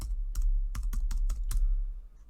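Computer keyboard typing: about seven sharp, close keystrokes in irregular bursts over a low steady hum, with no talking.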